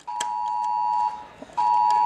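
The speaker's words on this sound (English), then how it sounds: "I'll just talk over that buzzer sound." A sustained electronic buzzer tone sounds, cuts off briefly, then resumes just as loud, with faint clicks in the gap.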